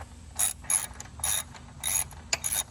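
A T40 Torx ratchet backs out the skid plate bolts on a Harley-Davidson Pan America motorcycle in quick, close bursts of clicking, about six short runs with brief pauses between them.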